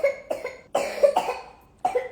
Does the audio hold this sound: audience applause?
no